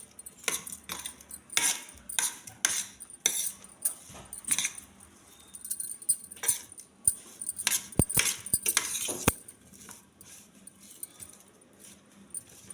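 Metal utensils clink and scrape in quick, irregular bursts while sweet, sour and spicy pineapple is mixed with rock salt, close by and fairly quiet, with no talking.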